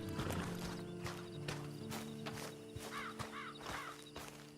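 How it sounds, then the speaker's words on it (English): Hooves clip-clop in an even walking rhythm, close by, while a horse gives a short whinny partway through, in the video game Red Dead Redemption 2. "And you better get on this horse."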